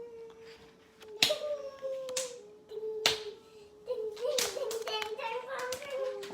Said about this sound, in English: Are you doing some clapping, Eve?